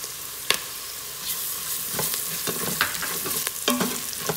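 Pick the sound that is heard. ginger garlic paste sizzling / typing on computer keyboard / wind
ginger garlic paste sizzling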